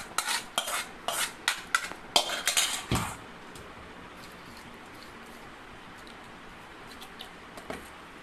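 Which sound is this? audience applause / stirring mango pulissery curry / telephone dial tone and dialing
stirring mango pulissery curry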